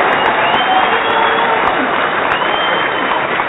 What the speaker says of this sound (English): I want to give you a round of applause.